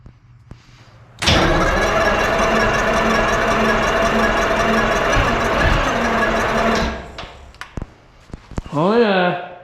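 Detroit 12V71 diesel in a Peterbilt 352 truck, left sitting all winter, cranks and catches, then runs at a loud steady roar for several seconds before cutting off, followed by clunks and a brief rising whine.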